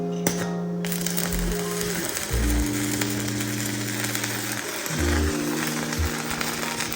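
A cheap $89 welder welds with a continuous loud crackling sizzle over a steady electrical buzz, its pitch shifting in stretches as the arc changes.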